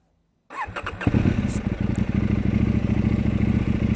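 KTM 890 Duke R motorcycle engine starting: a brief starter crank after half a second of silence, then the twin catches and settles into a loud, close, lumpy idle with rhythmic pulses.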